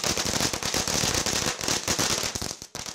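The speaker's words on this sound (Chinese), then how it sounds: "鞭炮声响起" Strings of firecrackers going off at the opening ceremony of a Democratic Progressive Party service office in Yuli, Hualien, a dense rapid crackle of loud close bangs that runs continuously with brief gaps near the end.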